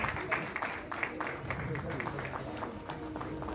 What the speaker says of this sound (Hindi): आइए हम उनका स्वागत करेंगे जोरदार तालियों के साथ में।